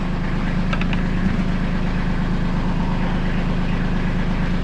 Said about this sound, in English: I've let the tractor warm up now.